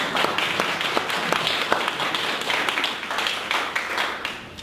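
A modest audience claps for a speaker after a talk, with individual hand claps standing out over a looser patter of applause that keeps a fairly even level.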